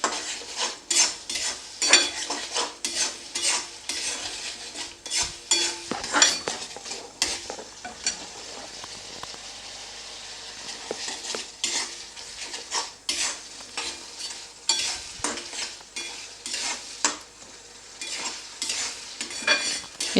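Aar fish kalia is stir-fried in a pan, with rapid metal spatula scrapes and clatters over a steady sizzle. The stirring is loud and constant throughout, with no voices.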